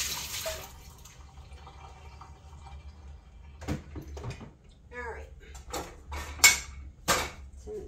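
A frying pan is lifted out of a kitchen dishwasher, giving a handful of sharp metallic clanks and knocks in the second half, with faint watery drips and a low background hum.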